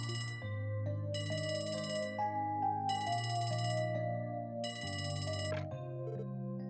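A phone rings in the video game Trails from Zero, sounding as four evenly spaced electronic bursts over steady background music, with no talking.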